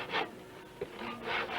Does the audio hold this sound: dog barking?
no